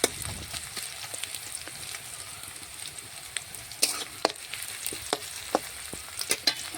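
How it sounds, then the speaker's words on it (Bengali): Sliced onions frying in oil for a lightly spiced chicken dish, a steady close sizzle broken by scraping stirs and occasional louder pops and clatters of the spoon in the pan. "তো দেখুন, পেঁয়াজ অনেকটাই ভাজা হয়ে এসছে"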